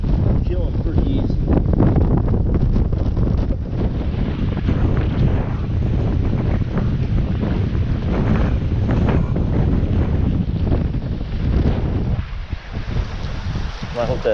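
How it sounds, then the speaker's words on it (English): Strong wind buffets the microphone beside a creek, a loud, continuous rumbling roar with gusty surges that fills the whole clip. "There's a lot of wind beating out here."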